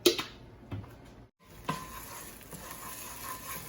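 Garlic sizzles and fries in hot vegetable oil in a pan for a Pad Thai, with a steady crackle broken by a brief stir and a short pause before the sizzle resumes.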